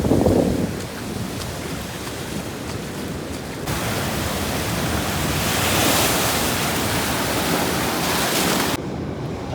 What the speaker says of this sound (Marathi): समुद्राच्या लाटा पाहू शकता कशा पद्धतीने येत आहेत.